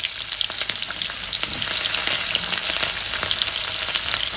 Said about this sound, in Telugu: ప్యాన్ పెట్టుకొని ఆయిల్ వేసుకొని ఆవాలు శనగపప్పు అయితే వేసుకోవాలి జీలకర్ర వేసేసుకోండి అలాగే ఎర్రగడ్డలు వేసేసుకోవాలి